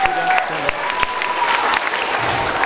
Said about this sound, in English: Be a big round of applause.